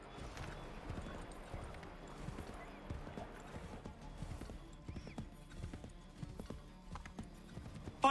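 Horse hooves gallop in Assassin's Creed III with a steady, rhythmic clip-clop that runs throughout, close and fairly loud, joined by a brief whinny and other game sounds.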